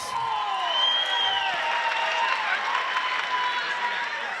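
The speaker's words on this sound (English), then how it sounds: "a round of applause for both of these athletes" Crowd at a fighting event in a caged arena, steady applause and cheering with whoops throughout, loud and continuous with voices mixed into the noise.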